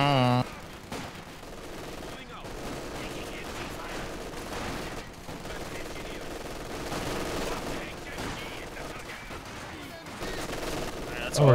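Rapid machine gun fire and other gunshots from the World War II strategy game Company of Heroes, with an MG42 among the weapons, crackling continuously through a busy 4v4 battle while players talk over it.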